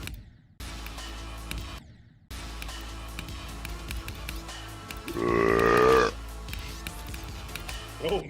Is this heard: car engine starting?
no